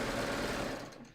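A serger stitches fabric for a raglan sleeve top, a steady close mechanical whirring that runs throughout and then eases off slightly at the end.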